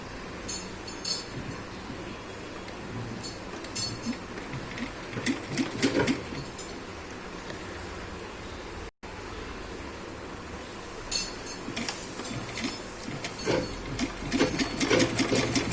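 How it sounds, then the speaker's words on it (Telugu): Sewing machine stitching a cross cut blouse, running steadily and continuously with a rattling hum and occasional light clinks, fairly loud and close. "1/2 ఇంచ్ దగ్గర పెట్టుకుని స్టిచ్ చేయాలండి"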